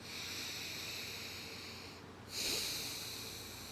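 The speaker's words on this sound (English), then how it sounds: "you're going to breathe in an audible manner where you can hear yourself breathing" Deep belly breathing during meditation comes as a single soft, close breath after a quiet stretch, heard alone and faint.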